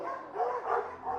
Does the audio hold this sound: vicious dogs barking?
yes